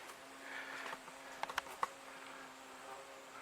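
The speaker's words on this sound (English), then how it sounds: "Definitely got some bees in here." Bees buzz faintly in a recently disced field in a Florida wildlife management area, a soft insect hum with a few brief clicks near the middle.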